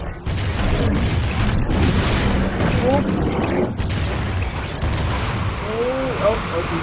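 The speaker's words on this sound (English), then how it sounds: "Okay, let's try the grenade. Fusion grenade!" Fusion grenades explode in Ratchet & Clank Future: Tools of Destruction, heavy booming blasts that roll into a sustained, chaotic rumble of combat noise, with a voice talking over the din.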